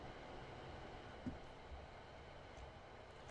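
Steady, quiet rumble of a train running in the Train Sim World 6 video game, a continuous low drone with one faint knock partway through and no voices.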